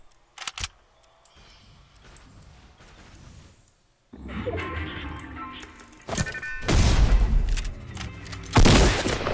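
Gunfire in the video game Fortnite comes as irregular sharp shots and crashing bursts, growing louder toward the end, with a game soundtrack beneath.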